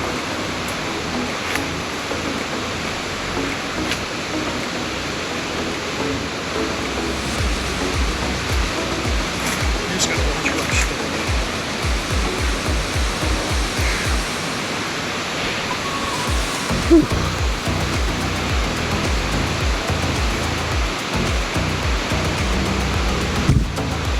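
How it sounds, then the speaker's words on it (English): Tat Krok waterfall in the jungle near Chiang Mai, Thailand, heard as a constant broadband roar of falling water that stays loud and even from start to finish, with no speech. "I can hear the waterfall from here."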